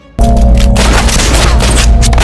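A sudden loud burst of gunfire in a film scene erupts after a brief quiet moment, a rapid, booming fusillade that continues densely to the end.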